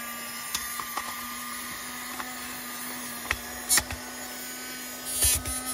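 A small USB-powered R2-D2 desktop vacuum cleaner hums with a constant faint motor whine, broken by a few brief scratchy rattles and clicks as it is moved around.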